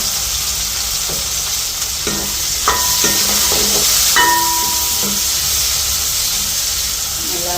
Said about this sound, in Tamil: உள்ளி பொரிச்சு பண்ணிட்டு